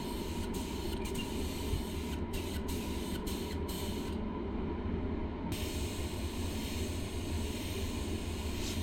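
A spray gun lays a metallic silver coat on a motorcycle fuel tank, a continuous hiss of moderate level with a few short interruptions where the spray briefly stops, and no talk.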